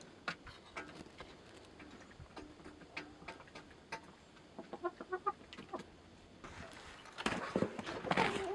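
Chickens and a rooster cluck on a homestead, with soft, rather distant bursts of clucking and scattered knocking hoof-like taps over a quiet outdoor background.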